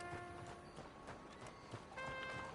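Horse hooves beat in a quick, regular galloping rhythm in the Red Dead Online video game, quiet and fairly distant, with faint sustained tones running underneath.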